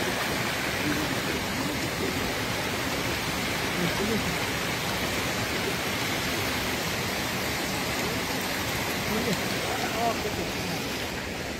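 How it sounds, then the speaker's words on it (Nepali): Water flows steadily from its source in a continuous, even rushing wash that stays at the same level throughout, like a small stream or outlet pouring nearby. "पानी आ रहा है यहाँ से।"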